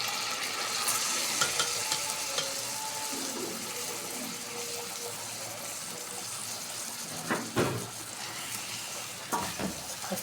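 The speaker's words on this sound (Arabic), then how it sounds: "احط الملح بتاعي بقى كده وابدا اديه تشويحه حلوه" Washed rice and lentils sautéing in a pan with salt, a continuous close sizzle and frying crackle with occasional stirring scrapes and clinks throughout, no speech.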